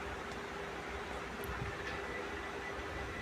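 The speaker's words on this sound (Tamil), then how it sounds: "ஸ்பின் நல்லா ஓடுது" A Whirlpool top-load washing machine hums through its spin cycle, a steady, faint mechanical whir with a constant low drone and no talking over it.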